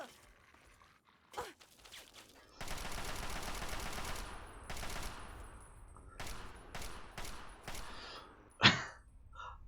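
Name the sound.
gunfire from the video game Fallout 3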